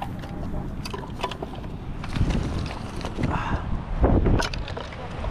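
Wind gusting outdoors near a bonfire, a steady rough rush and buffeting against the microphone, strengthening in gusts toward the end.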